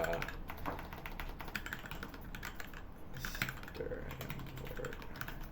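Rapid, uneven clicking from a computer keyboard continues throughout, fairly close, while a person talks over it at intervals.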